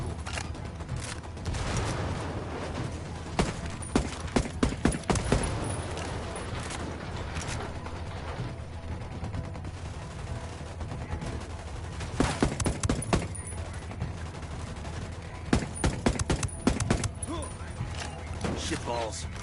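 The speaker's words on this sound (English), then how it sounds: "Shots fired." Video game gunfire rattles through a Ghost Recon Wildlands firefight, with repeated bursts and single sharp shots scattered across the whole stretch over a constant background bed, some near and loud, others softer.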